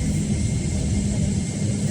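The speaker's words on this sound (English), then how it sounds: "So I'm on the plane, lots of empty seats." Steady low rumble and broadband hiss fill a passenger jet cabin waiting before takeoff during pandemic-era international travel, continuous and even with no talk.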